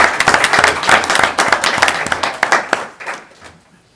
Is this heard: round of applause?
yes